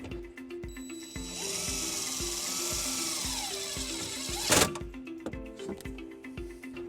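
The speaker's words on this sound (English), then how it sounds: "using our provided self-tapping screw and a 1/4" socket, we'll ground it into place" A power drill drives a self-tapping screw through a 1/4 inch socket into a 2020 Mazda CX-9 during a trailer wiring harness install, with a rising whirring spin, a sharp bite at the end and rhythmic ratcheting clicks.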